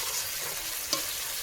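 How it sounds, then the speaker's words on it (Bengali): Spice paste sizzles in oil in a pan, a continuous close hiss with one brief scrape of stirring. "এখানে দেখো মশলা কিন্তু আমি হালকা ভাজা করে নিয়েছি, মানে কষানো হয়ে গেছে"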